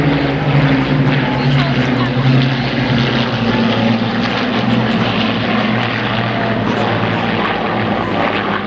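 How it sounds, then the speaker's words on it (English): Four WWII fighters of the Battle of Britain Memorial Flight, two Spitfires including a Mark 16 LF-16E and two Hurricanes, fly over an airshow at Cosford with a loud, steady piston-engine drone throughout and some crowd voices underneath. "here comes the Battle of Britain Memorial Flight Fighters. 2 Spitfires, 2 Hurricanes."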